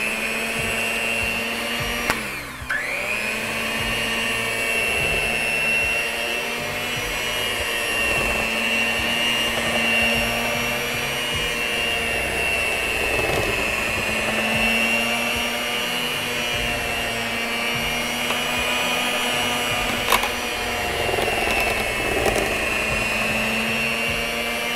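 An electric mixer with cake beaters whirs steadily through sweet potato pie filling, a constant close motor drone with a brief dip in pitch near the start as the beaters meet thicker batter.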